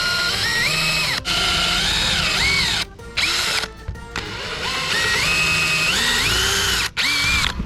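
Power drill boring a pilot hole under a sailboat mast, a loud high whining motor with rising and falling pitch, broken by a few short stops and restarts.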